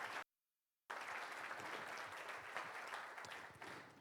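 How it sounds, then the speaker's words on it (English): Conference audience gives a warm round of applause to a group presenting a seven-year strategy, full, continuous clapping from a sizeable crowd after a brief dropout near the start. "Please do give them a warm round of applause"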